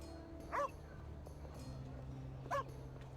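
A dog in the video game The Inquisitor gives two short yips about two seconds apart, moderately close, over a low, steady ambient hum.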